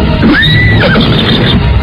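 A horse whinnies in an Indonesian radio drama as horses are being tethered, a single loud, rising and falling neigh close by over a constant dense background.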